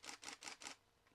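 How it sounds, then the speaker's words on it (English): A DSLR camera shutter with its mirror flipping up and back down fires four quick, evenly spaced clicks close by, followed by a fainter fifth click. "That's one of the sounds you hear when you push the shutter button on a camera"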